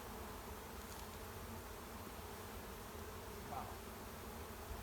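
Honey bees hum in a steady, faint drone at an opened hive during spring preparation, the buzzing constant throughout with a brief soft exclamation from a person.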